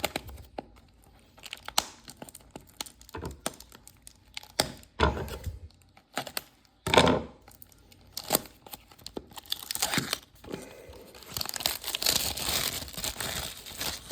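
Topps Flagship Football hobby box and card packs being ripped open, with crinkling foil, tearing and occasional thunks and cracks spread over several seconds, close and fairly quiet, building to denser rustling near the end with no speech.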